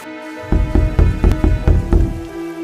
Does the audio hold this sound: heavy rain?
yes